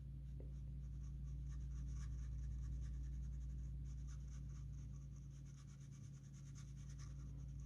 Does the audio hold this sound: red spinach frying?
no